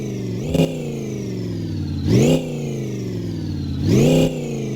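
Engine of a barn-find car in the My Garage driving game revving three times in bursts, each rising and falling whine standing out over a steady idle drone, close and loud with no talk.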